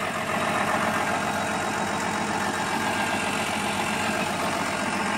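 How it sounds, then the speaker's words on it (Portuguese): John Deere 7500 tractor with a 140 hp engine pulling a 40-disc harrow, a steady droning engine rumble mixed with broad mechanical noise, close and constant with no talk. "estamos usando aí um trator John Deere, né, o modelo aí 7500, né, 140 cavalos aí."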